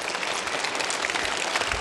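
A crosstalk comedy show audience applauds steadily, a dense, even wash of clapping filling the whole moment with no voices on top.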